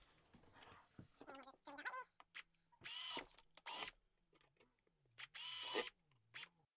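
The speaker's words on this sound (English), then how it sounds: "Again, grab your drill." A power drill bores holes into a cheap plastic dish tub for a homemade video light, its motor whirring in several short, loud bursts separated by quiet pauses and small handling clicks.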